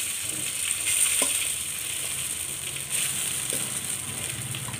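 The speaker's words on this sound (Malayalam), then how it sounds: "ഇടിയപ്പം മുഴുവനും ഇട്ട് ചിക്കി ഇളക്കി എടുക്കുക." Idiyappam rice noodles stir-fry with ginger and chilli in a hot pan, giving a steady close sizzle broken by occasional scrapes and tosses.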